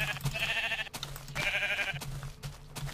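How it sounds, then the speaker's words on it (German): Sheep in a video game, likely Minecraft, bleat in several repeated calls, loud and close, with game sounds beneath. "Okay, ja, hier sind die Schäfchen."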